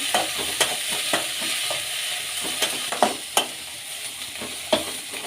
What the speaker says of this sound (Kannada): ಈಗ ಚೆನ್ನಾಗಿ ಮಿಕ್ಸ್ ಮಾಡ್ಕೊಳ್ಳೋಣ ನುಗ್ಗೆ ಹೂವನ್ನ